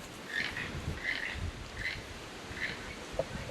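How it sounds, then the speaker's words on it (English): A toucan perched in a pear tree on a farm gives a frog-like croaking call, repeated four times at an even pace and heard at moderate distance over a quiet outdoor background. "Do you hear that sound? That sounds sort of like a frog. That's a toucan."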